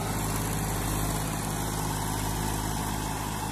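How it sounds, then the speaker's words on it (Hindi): A Massey Ferguson 241 tractor engine runs steadily close by, a continuous low diesel drone holding an even rhythm for the whole stretch with no voices over it. "ट्रैक्टर बहुत बढ़िया चल रहा है"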